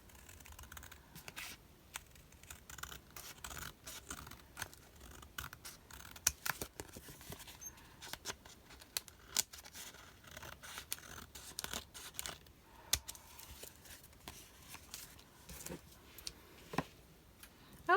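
Scissors snip through a paper tag for a rose-themed journal in a run of quiet, close, irregular cuts with small paper rustles between them, and no talking.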